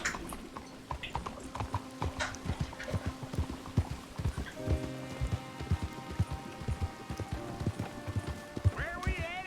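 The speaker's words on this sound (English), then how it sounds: "You got a horse? Follow me." Horse hooves clip-clop at a walk in the western video game Red Dead Redemption 2, close and rhythmic with irregular clops, accompanied by light tack jingles and a brief whinny near the end.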